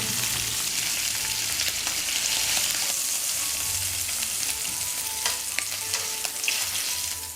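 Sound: smoked duck meat sizzling in a pan

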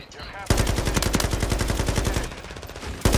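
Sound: gunfire in Call of Duty Modern Warfare 3 video game

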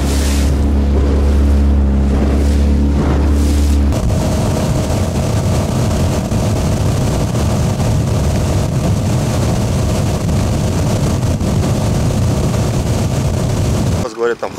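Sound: small motorboat moving over waves

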